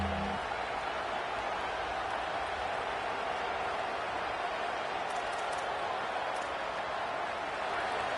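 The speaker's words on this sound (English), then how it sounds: "Here comes this home crowd as the defense tries to get off the field on 3rd down." Home crowd at a UCLA vs USC college football game roaring steadily in a large stadium on a third down, a dense sustained wash of cheering and noise that holds at an even level throughout.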